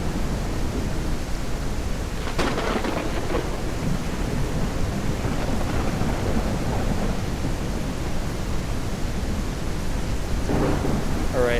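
Thunderstorm in the ranch-building video game Ranch Simulator, heavy steady rain hiss with rolling thunder rumbles, one sharper crack early on and another near the end, loud and continuous.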